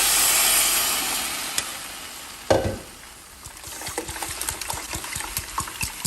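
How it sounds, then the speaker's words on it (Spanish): Water being poured into a soup pot holding blended tomato, a broad steady pouring wash that tapers off, then a quieter stretch of small drips and light knocks. "voy a agregar 1 litro de agua."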